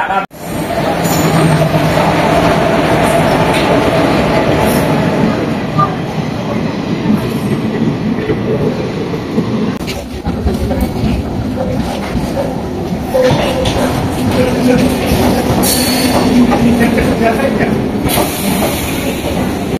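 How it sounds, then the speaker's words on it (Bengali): A train rumbles loudly close by as it pulls into a station, with a continuous roar and metallic clatter that never lets up. "দেখতে পাচ্ছি আমাদের ট্রেন চলে এসেছে"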